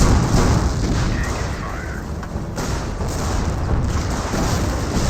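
Artillery barrage explosions rumble through a Company of Heroes battle, a dense, continuous wash of booms and blasts at steady loudness, with faint game chatter mixed into the din.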